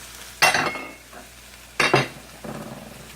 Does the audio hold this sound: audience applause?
no